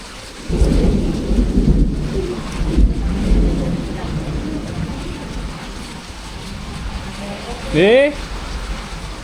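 A thunderstorm pours heavy, steady rain while deep thunder rumbles loudly in the first few seconds and then tails off. A brief voice cries out near the end.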